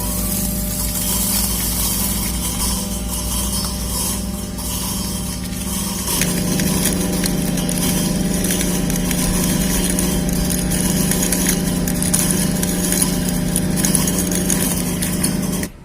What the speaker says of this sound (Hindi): अनाज पीसने की प्रक्रिया शुरू हो गई है।